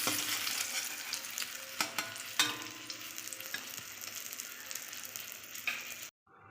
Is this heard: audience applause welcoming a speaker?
no